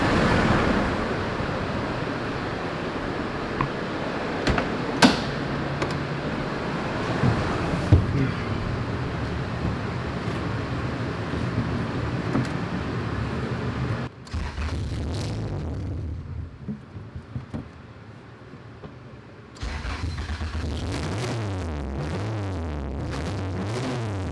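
Turbocharged B-series Honda Civic engine running on a dyno with a rough, uneven idle. The engine drone stays steady and fairly loud, drops off briefly partway through, then returns.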